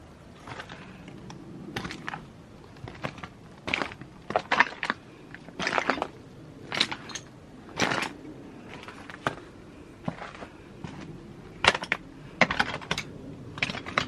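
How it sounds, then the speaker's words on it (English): Footsteps crunch over broken old roof slate in the rubble of an abandoned, fire-damaged mansion, giving sharp, irregular cracks and clinks spaced a second or so apart, close and fairly quiet. "I'm walking on what would have been the roof, the old slate. That's why you're getting the cracking noises."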